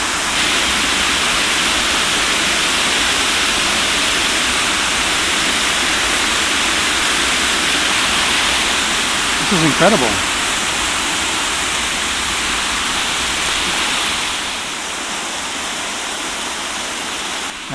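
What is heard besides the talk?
waterfall in Glastenbury Wilderness forest, Vermont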